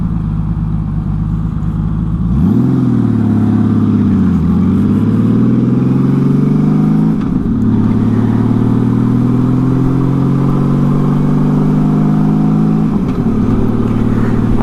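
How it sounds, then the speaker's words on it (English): A Honda Valkyrie cruiser's flat-six engine with six carburetors revs hard from idle, the deep smooth growl climbing and dipping through several throttle blips, loud and close. "One thing that interests me about these bikes is the fact that it has 6 carburetors and it sounds like a muscle car."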